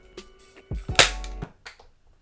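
A 1990s Nerf blaster tilted to its maximum angle fires an off-brand micro foam dart: a few soft mechanical clicks, then one sharp, loud pop with a short thump, followed by faint handling noise.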